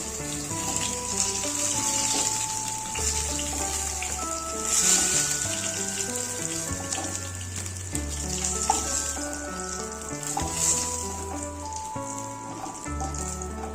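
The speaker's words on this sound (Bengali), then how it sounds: "সবগুলো এইভাবে ভেজে নেব।" Mutton kofta balls sizzle in frying oil with a continuous crackling hiss, set against steady background music with a clear bass line and melody.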